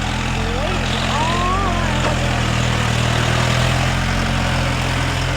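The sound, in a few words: tractor engine idling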